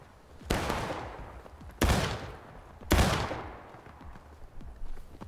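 Musket volleys in the War of Rights video game, set in the American Civil War: three heavy, booming ragged volleys about a second apart, each trailing off in a long echo, with faint scattered shots after.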